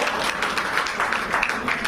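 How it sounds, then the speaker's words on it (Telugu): An audience claps together in a steady, dense patter of applause lasting the whole short moment, fairly close and even in loudness. "సార్ క్లాప్స్ ఇవ్వండి సార్"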